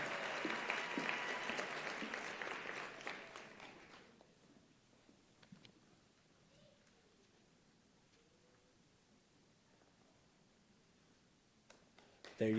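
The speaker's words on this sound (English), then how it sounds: "Round of applause for Jenny." At a convocation ceremony, a crowd applauds loudly for a few seconds before the clapping stops, leaving a quiet hall with scattered small noises.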